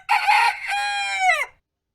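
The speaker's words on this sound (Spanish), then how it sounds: "En este mismo momento el gallo cantó." A rooster crows once, loud and close, a single full cock-a-doodle-doo about a second and a half long that rises and falls before cutting off into silence.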